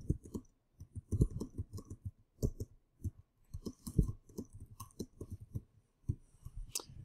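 Keys clatter on a computer keyboard in quick bursts of close, crisp clicks with short pauses between runs, while someone types text into a page editor.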